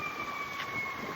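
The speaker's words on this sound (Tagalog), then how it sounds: "Ay, fire truck pala yun. Hindi pala ambulansya." A fire truck siren wails steadily at a distance, a thin sustained tone over a low background hum.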